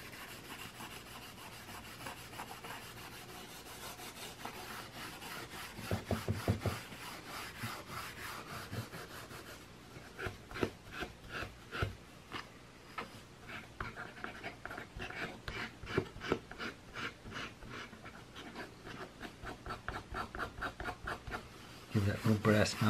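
Cloth rubbing over an antique piece to lift off dirt and old wax, a soft, quiet scrubbing in quick back-and-forth strokes that grows busier and more rhythmic as it goes on.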